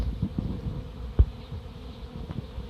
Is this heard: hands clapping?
no